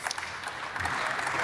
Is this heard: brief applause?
yes